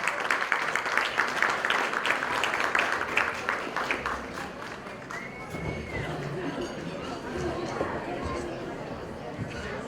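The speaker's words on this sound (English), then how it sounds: "Let's give a big round of applause to our chairman, Antonio Ibarrios." Crowd applause with clapping and cheering, fairly loud and sustained throughout, with chatter mixed in.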